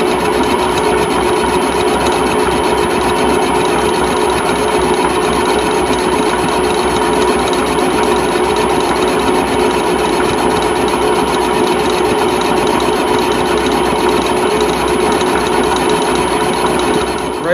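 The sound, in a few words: milling machine machining a Bolens sleeve hitch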